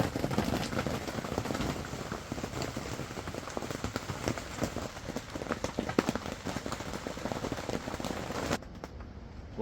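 Rain beats steadily on an RBM Panda Medium inflatable tent through a windy night and morning, a dense close patter of drops that runs without a break and then stops abruptly near the end.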